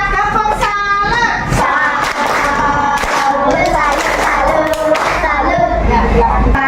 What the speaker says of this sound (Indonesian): tepuk salam dulu buat temannya